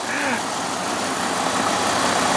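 A 1996 Dodge Ram 1500 pickup with a 5.9 liter engine runs steadily, giving a continuous broadband rumble at close range with no breaks or revving.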